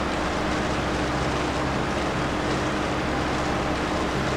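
A small tractor engine in the Farming Simulator 22 game, a steady low drone running on with no breaks and no talk over it.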